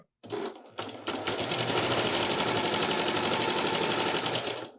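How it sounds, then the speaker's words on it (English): A sewing machine stitches the edges of a scrappy fabric pot holder, two brief starts, then a fast, steady mechanical whirr that runs close and loud until it stops. "I'm going to go ahead and sew the edges with 1/8 inch of seam allowance"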